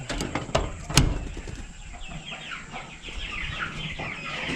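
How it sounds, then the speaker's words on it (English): Cornish cross chickens cluck and chatter continuously, several birds close by, with a few sharp knocks near the start. "when I feed these Cornish cross chickens"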